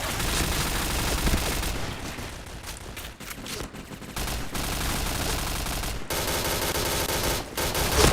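Rapid, dense gunfire from the online shooter Point Blank, sustained bursts of automatic fire filling the whole stretch, loud and close with brief dips between volleys.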